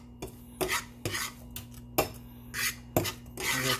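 Metal utensil scraping and clinking in a pan while onions and paprika are stirred over a camp cooking setup, with several short rasping strokes in an irregular rhythm, close and moderately loud, without talk.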